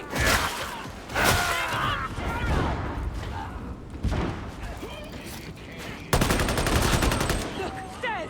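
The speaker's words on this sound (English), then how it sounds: "They are shooting!" Enemy gunfire in the video game Warhammer 40k: Darktide, dense bursts of shots and booms crackling throughout, loud and continuous, mixed with other game effects and some voices.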